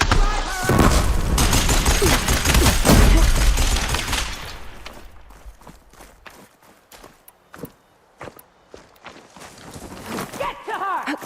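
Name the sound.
gunfire in the video game Horizon Forbidden West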